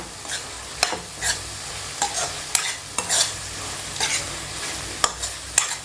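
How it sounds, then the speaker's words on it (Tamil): Brinjal (eggplant) is stirred in a hot pan, a spoon scraping at a steady rhythm over a soft, continuous sizzle. "நல்லா வதக்கிக்கலாம்"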